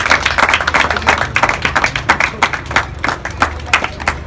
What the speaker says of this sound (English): a big round of applause for Akanksha.